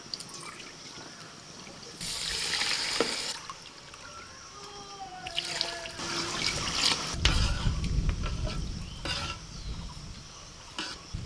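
Water poured from a bowl onto rice in a clay pot, measured as three bowls of water for one and a half bowls of rice, splashing in bursts of varying loudness, close and alone without talk.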